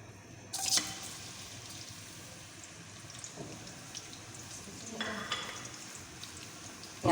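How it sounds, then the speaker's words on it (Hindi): Onions browning in a pan give off a faint, steady sizzle that runs through the whole stretch, with a few soft clinks and stirring sounds and a louder clatter near the end. "प्याज को ब्राउन कर लेते हैं।"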